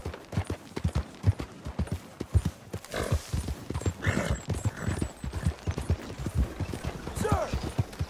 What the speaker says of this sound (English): Such a fine horse